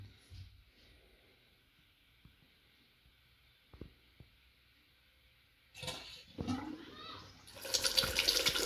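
After near silence broken by faint knocks, water bursts from freshly cleaned farmhouse taps as the supply is turned back on, sputtering and surging unevenly before settling into a loud, rushing flow.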